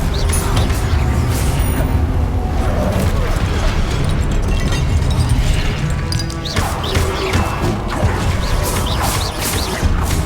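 Confringo blasting curse explosions in a Hogwarts Legacy fight, a dense, loud, unbroken wash of crashes and booms lasting several seconds amid ongoing combat noise, with voices mixed in.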